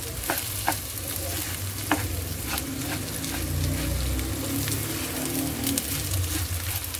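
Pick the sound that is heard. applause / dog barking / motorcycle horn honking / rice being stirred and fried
rice being stirred and fried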